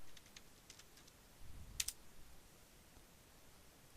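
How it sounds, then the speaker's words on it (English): Computer keyboard keys tapped quietly as an administrator password is entered on a Windows Server 2008 R2 machine, a short cluster of soft clicks with one sharper keystroke near the middle, faint and alone. "Enter, type administrator password."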